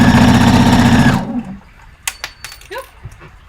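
A sewing machine stitches the neck edge seam of a dress, the presser foot riding along the edge: a loud, steady mechanical whir for about a second that then stops, leaving a few faint clicks and handling noises.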